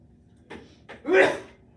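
A single sneeze, close and fairly loud, preceded by a couple of sharp intakes of breath, in an otherwise quiet room.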